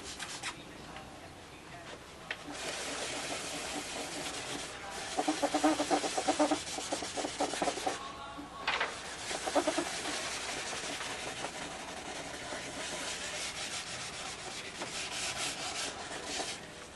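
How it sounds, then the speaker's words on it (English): Hand sanding of an aircraft panel, a steady scratchy rasp of abrasive worked back and forth across the surface, close and continuous with rhythmic strokes that swell in the middle, no voices. "I'm going to start my sanding."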